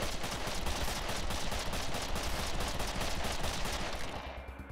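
Gunfire in the post-apocalyptic video game Wasteland 2, a dense continuous burst of rapid shots like automatic fire, loud and sustained before tailing off near the end, with no talk over it.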